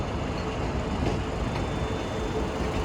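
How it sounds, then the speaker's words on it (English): A Scotrail Class 156 diesel multiple unit departing Glasgow Central, a steady broadband engine rumble and rolling noise in a station setting, continuous and moderately loud. "departing out now is the 1017 Scotrail service, starting here at Glasgow Central, going to East Kilbride"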